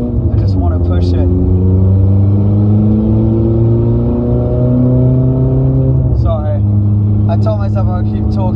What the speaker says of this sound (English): if you're wondering why the gear shift sounds so slow, first of all, it's a single clutch gearbox